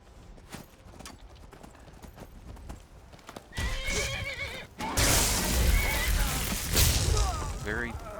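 A horse in the Skyrim video game whinnies loudly while its hooves clip-clop, the sounds getting busier and louder partway through.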